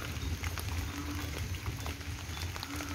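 Heavy rain falls outdoors on a windy day, pouring into a garden of ornamental plants and filling a puddle, a dense steady hiss and patter with low rumbling, continuous and fairly close throughout.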